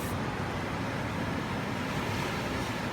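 Ocean waves wash against rocky tide pools, a steady broadband roar of surf with wind noise on the microphone, continuous and fairly loud, no voices.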